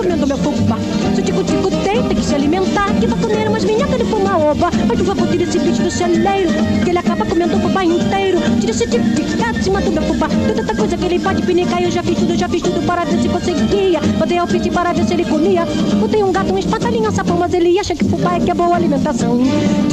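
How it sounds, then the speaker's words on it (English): A fast Brazilian choro plays throughout, a dense, loud and steady instrumental band under a sung Portuguese vocal. "So what you just heard is a choro."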